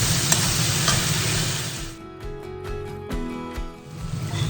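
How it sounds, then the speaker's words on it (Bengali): Chicken butter masala stirred in a pan over low flame, with a continuous oily sizzle, then a series of spaced scraping knocks from the spoon against the pan. "এটাকে আমি আবার একটু নেড়ে চেড়ে নেব।"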